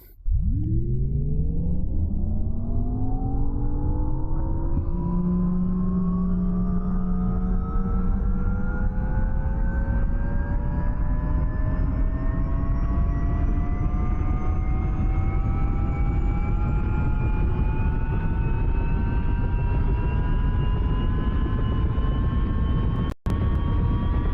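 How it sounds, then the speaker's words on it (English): An aircraft engine in the game DCS spins up from a low whine, its pitch climbing steadily into a loud, sustained drone and rumble that continues at full power. "Let's get the engine turned over, and then we'll go explore."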